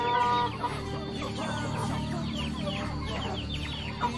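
Bangkok, Pelung and Kampung chickens let out of their coop into a netted farm enclosure cluck steadily together, several birds overlapping in a busy, continuous chorus at close range.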